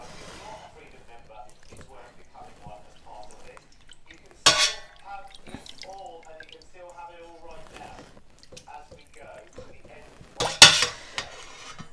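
Goat's milk cheese curds being spooned from a pot into a cheesecloth-lined colander over a bowl, with soft wet scrapes and clinks of a spoon against metal, two sharper clatters standing out, under quiet talk.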